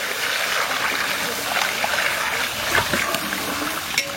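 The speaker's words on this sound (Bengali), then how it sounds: "আর আমরা পরিমাণ মতো মাছের একটু জল দিয়ে দেবো।" Water pours into a huge pot of katla fish curry being cooked outdoors for a village crowd, a steady rushing splash that continues throughout with faint voices in the background.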